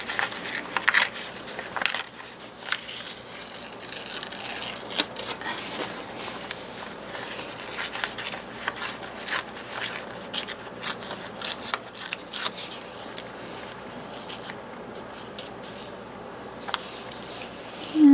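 A sheet of music paper pulled from a paper pad is torn by hand, giving steady crisp rips and crackles close up that run on for many seconds with small pauses and no talk over them.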